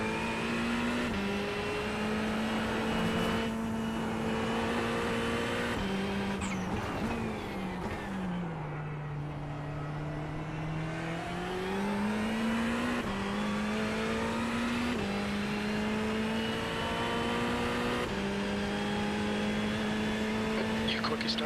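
Ferrari race car engine in the iRacing sim, a steady high-pitched drone that rises and falls through gear changes and a long dip in revs mid-lap, with a voice talking over it.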